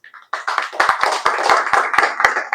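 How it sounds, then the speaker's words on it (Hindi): An audience at a reception for silver and bronze medalists breaks into applause for a bronze medalist in men's doubles. Dense, loud clapping starts abruptly after a brief pause and continues steadily, with sharp individual claps standing out. "जोरदार तालियों के साथ उनका हौसला अफजाई करें प्लीज"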